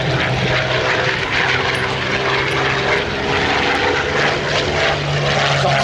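A Corsair propeller fighter, an FRU-7, passes at the Abbotsford Airshow, its piston engine giving a loud, steady, buzzing drone close by with no talk.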